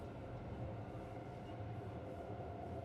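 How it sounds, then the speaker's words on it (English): A train in the Cities Skylines 2 city-building game rumbles past as a steady, continuous low roar, fairly quiet and unchanging throughout, with no talking over it. "Oh, there's a train in front of me."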